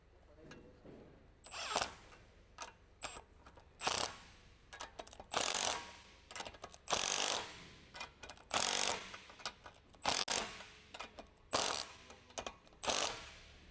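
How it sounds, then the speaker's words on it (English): A ratcheting wrench clicks in repeated short bursts while tightening the steering stabilizer mounting bolt on a Jeep Wrangler JK, each stroke a rapid, close chatter of pawl clicks separated by brief pauses. "Using a 18mm wrench with a 19mm ratcheting wrench, tighten the stabilizer mounting bolt."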